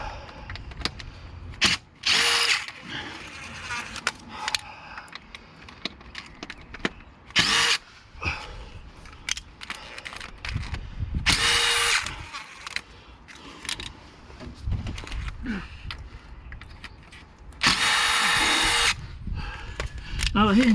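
Small impact driver working T40 Torx bolts on a 2003 Volvo XC90, several short loud rattling bursts spread out among clinks and handling noises, with someone talking in between.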